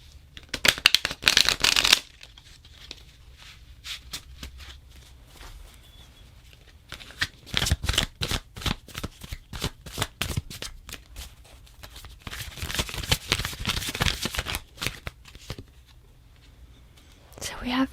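Oracle cards being shuffled in two clear bursts near and crisp, with soft patter and quiet gaps between, set in a calm ASMR card reading.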